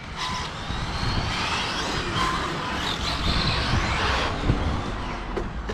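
A continuous high-pitched electric motor whine from a Hobao Hyper VTe2 1/7 RC car with a Castle Creations 1520 1650KV motor on 6S, rising and falling with speed over a broad rushing noise, with no talk.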